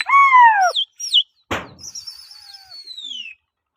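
Pigeons calling and flying outdoors, with a few clear chirping calls near the start, a brief burst of wing flapping in the middle, then a longer descending call, loud and close with no talking.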